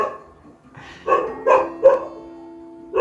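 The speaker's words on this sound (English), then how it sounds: "The dogs." A dog barks three or four times in quick succession, fairly close, with a short gap before a final bark.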